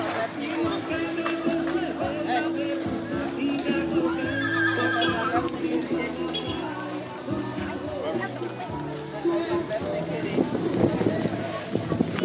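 Horses at a rural cavalcade of riders in the backcountry whinny and neigh, with hooves clip-clopping, while someone talks nearby over crowd babble and outdoor commotion.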